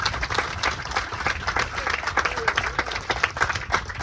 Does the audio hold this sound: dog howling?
no